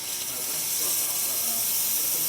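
Steam wand on an Olympia Maximatic espresso machine hissing steadily and loudly, a continuous bright rush of steam holding for the full stretch with no voices over it.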